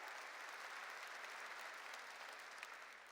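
A church congregation applauds during a Sunday sermon, a steady, fairly distant wash of many hands clapping that holds evenly throughout.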